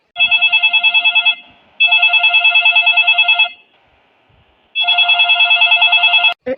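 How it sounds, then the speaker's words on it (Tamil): A telephone rings loudly and close by in three bursts of rapid electronic trilling, each lasting over a second, separated by short silences. "ஃபோன் அடிக்குது"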